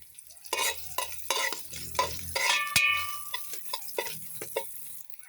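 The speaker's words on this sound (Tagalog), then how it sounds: "gisa natin itong luya" Ginger sautés in hot oil in a cooking pot for chicken adobo in coconut milk, with a soft sizzle under repeated scraping stir strokes and one sharp metallic clink, close by and without speech.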